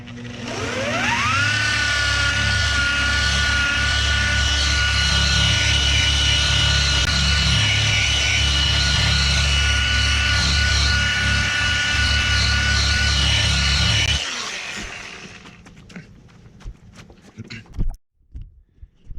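A rotary polisher with a wool buffing pad cutting compound into car paint, a loud steady whine that spins up and holds for about fourteen seconds, then winds down into quiet handling noises.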